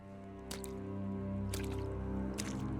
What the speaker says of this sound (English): the sound of the water lapping against the hull